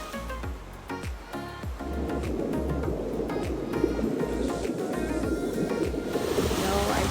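Ocean waves breaking on an island beach, a rising rush of surf that swells into a steady wash of foam, with a nearby voice talking over the start.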